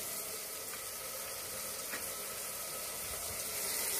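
Gongura pickle ingredients sizzle in a pan, a steady soft hiss and crackle of frying that runs continuously at low volume.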